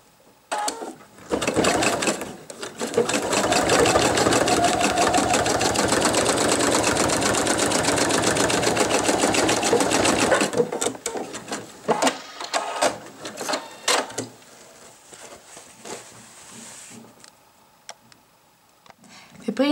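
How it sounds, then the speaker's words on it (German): A sewing machine stitches the bottom edge of a men's wallet in one long loud run of rapid stitching, followed by scattered clicks and handling noises. "Jetzt klappe ich hier dieses Fach um und nähe jetzt noch die untere Kante."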